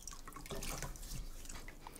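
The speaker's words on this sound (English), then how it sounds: "I've got a big bucket of water here, so let's just jump right into it." Water from a bucket splashes and drips as a face is wetted indoors in a beauty studio, soft close splashing and trickling for a couple of seconds with no talking.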